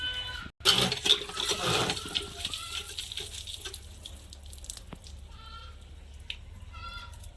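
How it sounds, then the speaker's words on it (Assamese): Tap water runs and splashes as duck meat is rinsed, a loud burst of flowing water at first that settles into softer trickling, with faint animal bleats in the background. "মাংসটো ধুই লোৱা হৈছে হাঁহটো।"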